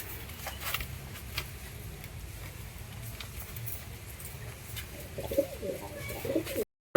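A pair of Lalshira pigeons coo softly in low, murmuring bursts, fairly faint against a quiet background, with a few light taps near the end.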